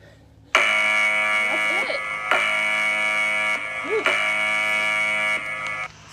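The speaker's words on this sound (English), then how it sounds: "Dramatic buzzer." A loud buzzer sounds three times, each long steady harmonic blast lasting about two seconds, ending a round of a high-energy World Cup–themed workout with only brief gaps between them.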